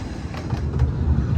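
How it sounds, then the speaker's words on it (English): A Ravenglass and Eskdale Railway narrow-gauge train rolls along in wet weather in the Lake District, giving a loud, steady rumble with faint rhythmic wheel clatter close by and no talk. "we're going to go down to Ravenglass with this train"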